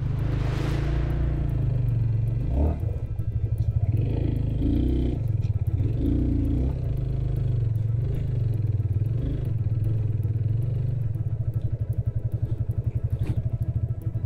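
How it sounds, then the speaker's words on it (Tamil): A motorcycle engine thrums steadily and close on a road while large vehicles approach, with rising rumble and clatter and a few brief voices underneath. "ஐயோ வண்டி பெரிய பெரிய வண்டி வர வருது"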